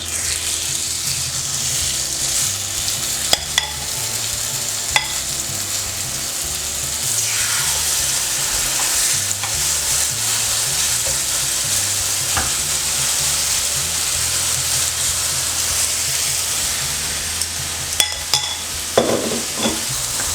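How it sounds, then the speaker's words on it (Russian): Pork neck steaks sizzle steadily in a hot oiled frying pan, a loud continuous hiss with occasional sharper crackles and pops, close up and with no talking. "Если начинает шипеть, значит можно укладывать полностью."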